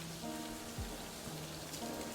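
Steady rain in the video game Livber: Smoke and Mirrors, a constant soft hiss of falling drops that stays even and fairly close throughout, with faint low tonal background sounds and no voices.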